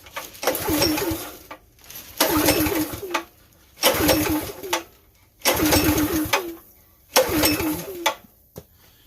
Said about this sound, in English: get the motor up and running first